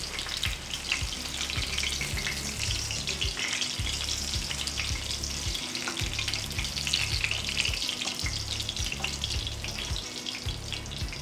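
Martabak telor fries in hot oil, giving a continuous close sizzle and crackle with no talking.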